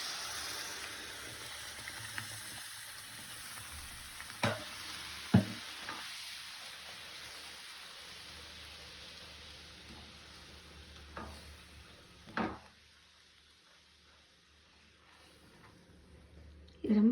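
A blended sauce goes into a pan of melted butter with chicken stock, and a soft sizzle and bubbling hiss follow, broken by occasional spoon knocks and stirring. A voice talks over parts of it.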